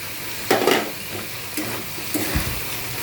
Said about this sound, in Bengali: মোচাটা দিয়েও খুব ভালোভাবে আমি কষিয়ে নেব মশলার সঙ্গে।